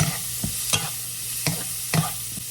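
Garlic and white onion fry in a pan for beef chop suey, with a soft steady sizzle and several sharp scrapes of a utensil stirring against the pan, close by and without speech.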